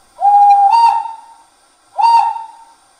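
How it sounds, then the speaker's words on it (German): Whistle sound effect from a gauge 1 scale model BR 52 steam locomotive, two loud, clear steam-whistle blasts, the first longer and the second shorter, sounding alone. "Das ist zunächst die Pfeife."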